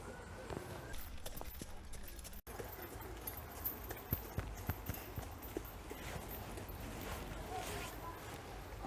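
Horses' hooves clip-clop at a walking pace on a hard surface, set against steady outdoor background noise.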